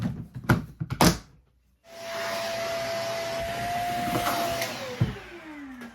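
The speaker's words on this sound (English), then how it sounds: "I might vacuum off this lid." After a few knocks and thunks of handling, a vacuum cleaner starts up and runs steadily close by while cleaning off a storage bin lid in a closet, its whine dropping in pitch near the end.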